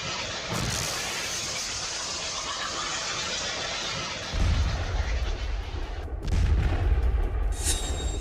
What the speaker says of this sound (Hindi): लेबनान बॉर्डर के पास इजरायली पोस्ट पर यह धमाका उसका सिर्फ ट्रेलर है।